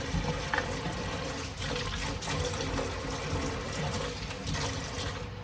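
Steady broadband rush of water pouring from a tap, continuous and fairly close, with faint clinks in the background and no talking.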